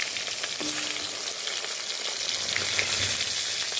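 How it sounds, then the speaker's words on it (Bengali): Eggplant pieces fry in leftover hilsa fish oil, a dense, even crackling sizzle close by that holds steady through the short moment without any voices. "এবং সেই তেলেই বেগুনগুলো দিয়ে দিলাম।"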